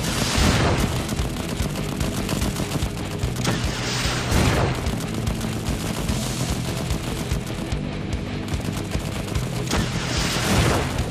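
Dense, continuous video game combat fire, with RPG blasts and rapid gunshots overlapping in loud bursts and booms that fill the whole stretch without pause.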